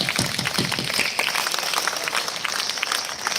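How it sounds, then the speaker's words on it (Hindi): Dense applause from an audience at a speech, steady crowd clapping throughout at moderate loudness, with some voices mixed in. "तालियों में थोड़ी ऊष्मा कम है आपके में"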